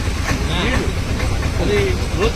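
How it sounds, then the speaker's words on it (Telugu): A passing train rumbles steadily with faint clattering and brief high squeals, heard close and loud under a layer of background noise and voices. "ఆ ట్రైన్ కూడా స్పీడ్ కనపడాలి"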